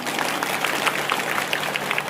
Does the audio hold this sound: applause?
yes